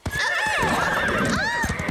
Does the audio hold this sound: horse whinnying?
yes